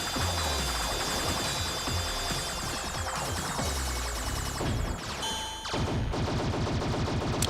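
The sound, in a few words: shooting in Salamander 3 video game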